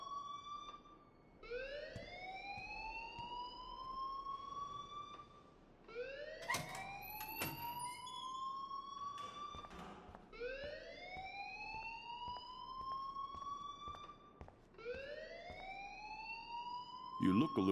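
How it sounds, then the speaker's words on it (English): In the Life is Strange video game, an alarm wails in a repeating rising sweep, four cycles about four seconds apart, loud and continuous under a steady background, with sharp clicks in between. "please turn off that alarm since that's your job"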